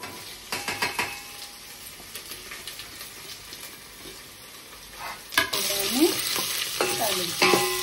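Curry leaves and onion stirred into hot oil for a tempering for biryani rice, a quieter sizzle with repeated spoon scrapes and clinks, then a louder burst of sizzling near the end, no voices.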